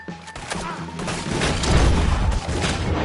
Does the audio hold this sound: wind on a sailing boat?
no